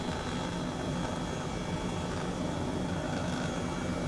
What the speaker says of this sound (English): I'm in a helicopter.